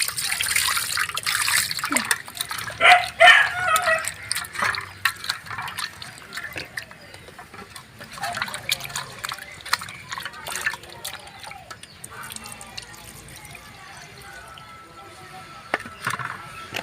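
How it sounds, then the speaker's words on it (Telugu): Water poured over fish for washing trickles and splashes in short bursts, loudest early on, then settles into quieter intermittent dribbling and sloshing. "ఇప్పుడు దీంట్లో నీళ్ళు పోసుకడ చేద్దాం"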